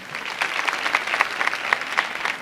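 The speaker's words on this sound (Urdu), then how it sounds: "اسوا کے لیے بھی تو تالیاں بجا دیں آپ لوگ" Studio audience at a Ramadan iftar television show applauding, a brief burst of dense, even clapping at moderate loudness with no voices over it.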